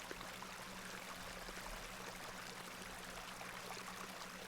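Icy water flows steadily in the video game The Excavation of Hob's Barrow, a quiet continuous rushing stream with faint trickling texture and a low hum beneath.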